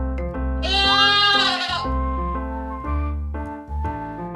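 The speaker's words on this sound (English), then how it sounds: "It's a goat." A goat lets out one long, wavering bleat, loud and near, over a continuous musical background.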